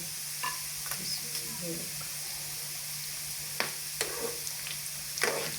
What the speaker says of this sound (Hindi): इसको हल्के आंच में ज़रा भूनते हैं।